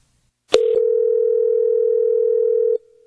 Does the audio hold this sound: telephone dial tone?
yes